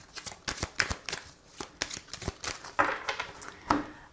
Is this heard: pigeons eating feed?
no